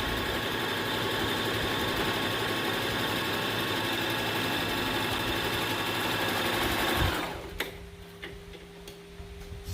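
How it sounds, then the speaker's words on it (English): A sewing machine runs steadily for about seven seconds, top stitching along the very edge of a fabric face mask, its rapid needle ticking close and even before it stops, leaving a quiet room. "I like to top stitch this just on the very edge"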